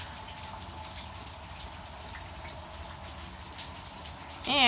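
Steady rain falls around a back porch where llamas shelter, a soft continuous patter of drops near and even throughout, with a brief louder rush of water at the very end.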